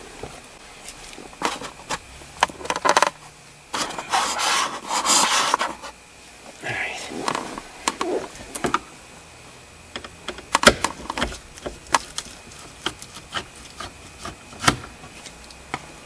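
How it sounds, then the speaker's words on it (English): Screws come out from under the dashboard panel of a 2003 Nissan Pathfinder, close-up clicks, scrapes and rubbing in irregular bursts with short pauses between, no talking. "All the screws that you see underneath the bottom here, you just take them all out."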